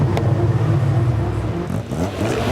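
Supercars including an Aston Martin Vantage, a Porsche and a TVR Cerbera race on track, with one engine roaring in a loud, sustained snarl close by and a brief rising rev toward the end.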